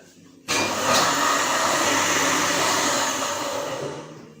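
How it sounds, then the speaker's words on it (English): An electric grinder kicks on abruptly and runs steadily, grinding dates with a loud, constant whirring roar that holds level for several seconds before easing slightly. "So, I'm grinding the dates now."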